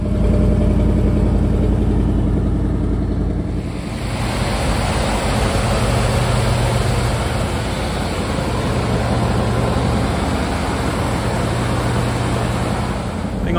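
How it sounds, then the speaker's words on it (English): A Dodge Power Wagon engine fires up after a shot of fuel and settles into a steady, loud idle, a dense low rumble that continues unbroken to the end. "Once I gave it a shot of fuel, it fired up and ran fantastic."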